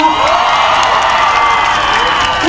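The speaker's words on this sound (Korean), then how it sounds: "자 오늘 이 학생이 처음으로 나와서 박수로 더 큰 박수로 환영해 주시기 바랍니다" Large outdoor crowd at a rally against the cancellation of autonomous private high schools in Seoul, cheering and clapping for a student speaker, a loud dense wash of voices and applause throughout.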